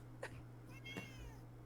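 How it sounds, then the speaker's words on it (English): A cat meows twice, close and clear, against a steady low background hum, with no talking over the calls. "You heard a cat."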